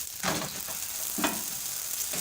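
Flatbread sizzles in a hot pan after being flipped, a steady hiss of frying with two or three soft scraping bursts as it is turned and pressed, close and without talking.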